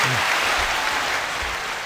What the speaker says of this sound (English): y'all give her a big round of applause